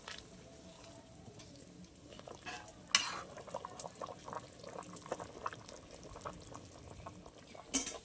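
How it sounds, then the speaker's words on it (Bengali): Chicken biryani is stirred in a pot at home, producing faint scraping and shuffling sounds with a soft sizzling bubble underneath, quiet and close with a few sharper clinks. "একবার আমি নেড়ে দেবো।"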